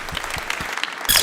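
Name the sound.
audience applause for speaker Jeffrey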